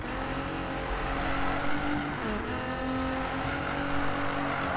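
A Nissan GT-R drifts around a corner with a steady, loud engine drone and a faint tire squeal. A pitch dip in the middle marks the shift into the slide, and there is no talking.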